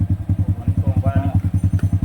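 A Honda XRM 125 motorcycle with a remapped engine runs nearby in a loud, fast, even pulsing throb. The rapid regular beats hold steady throughout the short span with no speech.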